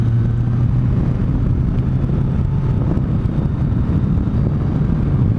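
A motorcycle engine drones steadily at moderate revs while riding through the Picos de Europa, with heavy wind rush over the microphone and no break in the sound.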